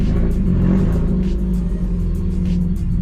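A straight-piped Subaru with an unfinished exhaust system roars close and loud in a steady, deep rumble, holding high revs without pause for about three seconds.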